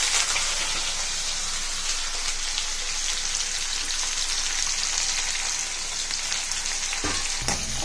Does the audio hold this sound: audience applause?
no